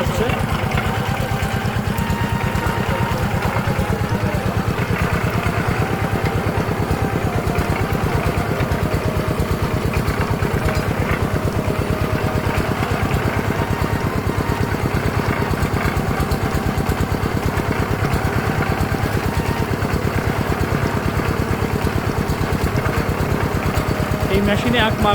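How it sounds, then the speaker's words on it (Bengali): An engine-driven sugarcane crushing machine runs in a village, its small motor chugging steadily and loudly throughout while someone talks over it. "চালু হয়ে গেল আখ মাড়াইয়ের সেই মেশিনটি, যার মাধ্যমে আখ মাড়াই হয়ে রস চলে যাবে বালতিতে"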